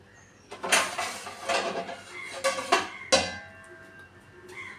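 A few metallic clanks and clatters of cookware, like a lid being set onto a pot, with a sharper clink near the end and quiet hum between.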